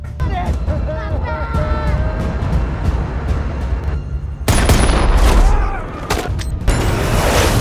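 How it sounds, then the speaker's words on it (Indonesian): Bursts of gunfire crackle and boom over a busy background with voices, rising to a louder, denser volley midway before easing slightly. "Abel dan Bishop mulai melakukan tembakan"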